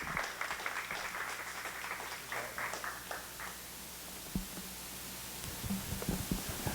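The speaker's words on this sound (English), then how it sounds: "let's have a big round of applause for our speaker, Rod Jordan." Audience clapping for a speaker at an indoor gathering, a soft, distant patter of applause rising and fading without talk.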